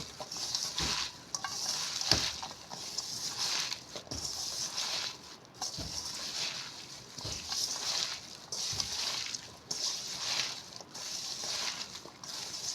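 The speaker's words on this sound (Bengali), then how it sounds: "সামান্য হলুদ, সামান্য লঙ্কা। এবার আমি হাত দিয়ে সবগুলো মাখিয়ে নেব।" Kulekhara greens being mixed by hand with turmeric and chili, a steady wet squishing and rustling that comes in repeated strokes, close and moderately loud with no talk.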